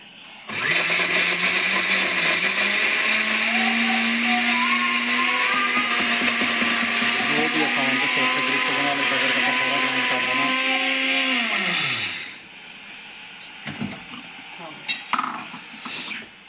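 An electric grinder whirs loudly while pulverizing gram flour that was fried in oil, its motor pitch sliding as the load changes for about twelve seconds before it stops, followed by a few clinks of the jar.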